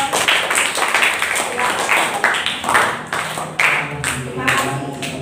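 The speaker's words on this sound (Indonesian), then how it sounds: "beri tepuk tangan untuk kelompok hijau" Classmates clap for the green group in a school lesson, producing a loud, rhythmic series of group claps in a repeating pattern with some voices mixed in.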